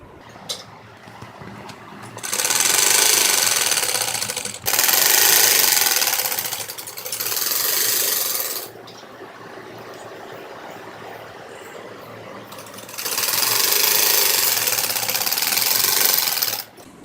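A sewing machine stitches panels of a narrow-bordered salwar, running in three loud bursts of steady whirring with short pauses, then a longer quiet stretch before a final burst; no one talks.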